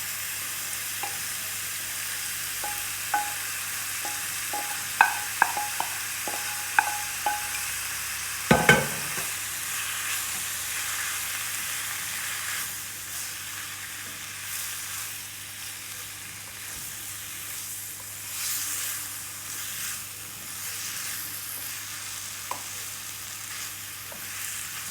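Spiced bitter gourd pieces frying in a pan for Gujarati karela shaak, with a spoon clinking and scraping several times and one sharp knock, over a continuous soft sizzle.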